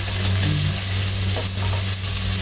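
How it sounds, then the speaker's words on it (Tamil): Two large onions, sliced lengthwise, fry in ghee for vegetable fried rice, giving a loud, close, continuous sizzling hiss with a low hum beneath. "இப்போ வெங்காயத்தை போட்டுக்கலாம் ரெண்டு பெரிய வெங்காயம் நீல வாக்கில் வெட்டி வச்சுருக்கேன் போட்டு வதக்கிக்குவோம்"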